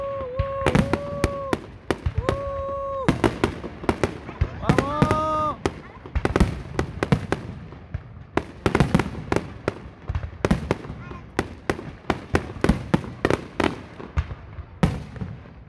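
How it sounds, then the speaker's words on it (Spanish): The final fireworks barrage at the Utrera fair bursts in dense, sharp explosions, rapid and irregular, loud and fairly close, with whistling rockets rising early on and a crowd voice heard now and then. "Estamos viendo los fuegos artificiales con 35 grados de calor."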